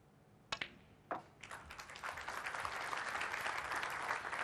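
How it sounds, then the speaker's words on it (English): Audience applause in a snooker arena for frame ball in a match between Ronnie O'Sullivan and Chris Wakelin, starting with a few sharp claps and building into steady, sustained clapping from the crowd. "Applause for frame ball."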